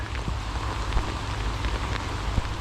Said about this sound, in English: it started raining hard